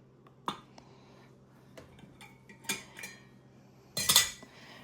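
Zucchini bread batter is spooned and funneled into jars in a quiet kitchen. There are sparse light clinks and scrapes of a utensil against glass and metal, with a louder clattering burst near the end.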